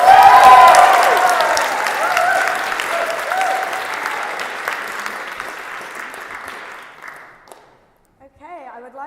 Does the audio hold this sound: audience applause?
yes